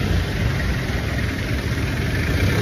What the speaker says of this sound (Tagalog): Ayan ang mga jeep. Jeepney.